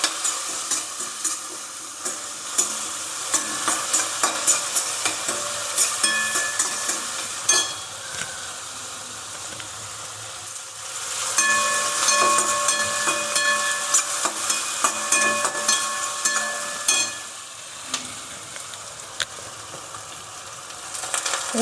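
Tomato and onion sautéing in a pan for dal tadka, with a steady close sizzle and hiss of frying, a spoon stirring and scraping now and then, and no voices.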